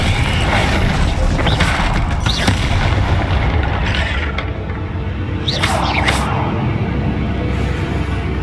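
The Confringo fire spell from Hogwarts Legacy explodes with loud, dense booms and crashes over a continuous, heavy wash of game sound.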